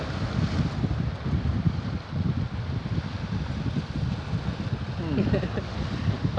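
Wind buffeting a microphone outdoors: a continuous heavy rumble with gusty, uneven surges throughout, loud and close.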